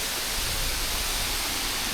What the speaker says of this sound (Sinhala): ඔන්නෝයි බඹරකන්ද දියැල්ල උඩ පේන්නේ.